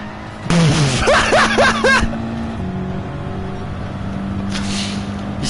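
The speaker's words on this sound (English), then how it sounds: "This car's fast, but it can't turn." A fast car in a racing video game, its engine revving sharply in a quick burst of rising whines for about a second and a half, then settling into a lower steady hum with a faint swell at the end.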